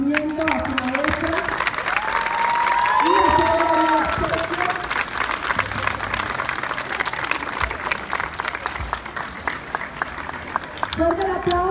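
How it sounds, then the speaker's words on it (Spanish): A class of students applauds its teacher Fátima at a school anniversary event, with long continuous clapping and cheering joined by voices calling out and an announcer speaking over the crowd. "Fuerte el aplauso para la maestra Fátima, que recibe un apoyo de parte de su grupo tutorado"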